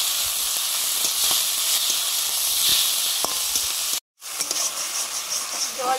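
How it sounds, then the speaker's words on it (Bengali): Spice paste of turmeric, chili and ginger sizzling with water in a pan, giving a steady broad hiss with faint crackles, close by, briefly cut off before the frying sound returns. "জল দিয়ে মশলাটা কষিয়ে নিচ্ছি।"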